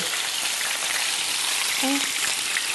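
Food with mozzarella sizzles and crackles steadily in a frying pan, a continuous close hiss with no one speaking.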